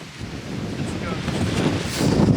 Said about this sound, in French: Il y a un peu beaucoup de vent, donc on sait pas ce que ça va donner.